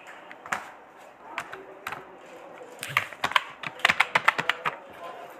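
A macro name typed on a computer keyboard in Excel, scattered clicks building into a rapid, close run of keystrokes toward the end, with a faint voice in the background.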